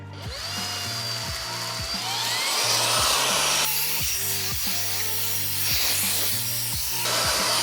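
Jimmy HW10 washing vacuum cleaner cleaning a car interior with a crevice nozzle, a loud continuous motor whine and suction roar that shifts in pitch as the nozzle moves, with rhythmic scraping knocks underneath.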